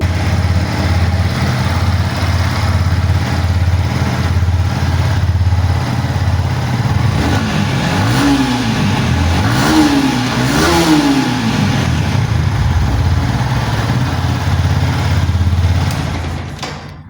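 A 2022 Yamaha R15 V3 Indian BS6 motorcycle, nearly new with about 5200 km, idles loudly up close, then revs in a few rising and falling surges before settling back to a steady drone.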